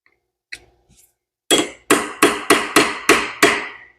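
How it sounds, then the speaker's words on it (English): A big hammer strikes a chisel to pop the clutch cover off a Yamaha IT175K motorcycle: seven loud, close metallic blows in a steady rhythm, each ringing briefly, after a couple of light taps. "Hammer. Big hammer."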